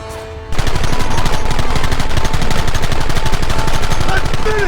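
Rapid, continuous gunfire erupts and keeps going without pause, loud and dense like several weapons firing at once in a Western shootout from the video game Red Dead Redemption.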